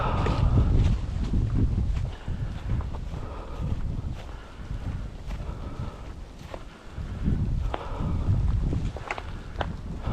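Wind buffets the microphone with a steady low roar that rises and falls in gusts on a snowy hike, while a few faint footstep-like thuds sound underneath.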